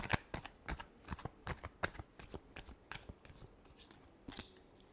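Tarot cards are shuffled by hand close by, a quiet run of quick, uneven papery snaps and flutters with no talk.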